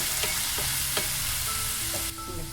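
Chopped tomatoes fry in a pan with a dense, continuous sizzle, punctuated by a few quick stirring clicks from a spoon against the pan.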